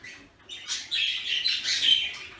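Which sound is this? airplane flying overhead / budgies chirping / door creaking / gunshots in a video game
budgies chirping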